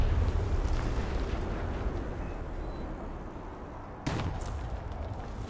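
Artillery rumble and explosions in War Thunder battle with an Object 906 tank: a dense, continuous low roar throughout, with a sharp new blast near the end.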